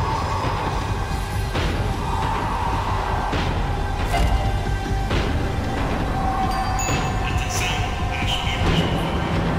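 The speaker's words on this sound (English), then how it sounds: "The tram was slowing down, and I'd only just gotten on board." A tram in the video game Max Payne 3 slows down with a steady rumble, clattering rail noise and occasional squeals and clanks, continuous and fairly close throughout.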